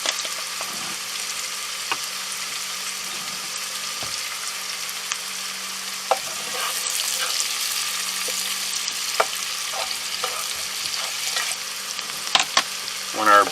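Butter melting in a pan for a mussels appetizer, with salt and lemon pepper; a soft, steady sizzle and crackle runs throughout, with occasional light clinks and stirring near the end.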